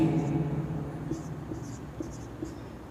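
Chalk or marker scratches across a classroom board in short strokes while a teacher writes a science term, faint scraping bursts over a low murmur of the room.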